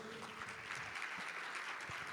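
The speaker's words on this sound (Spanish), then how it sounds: "El aplauso bien fuerte para ellos." Steady applause from a seminar audience, a continuous wash of clapping with no voices standing out, lasting a couple of seconds at moderate distance.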